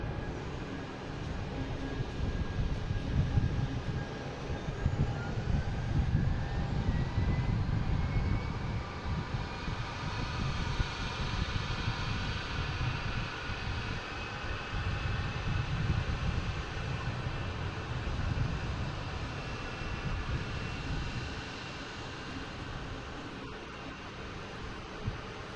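A JetBlue Airbus A220 heading for Orlando rumbles at Boston Logan airport, a broad, distant roar of jet engines that swells and then slowly fades over about twenty-five seconds.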